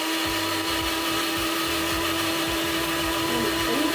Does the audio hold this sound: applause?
no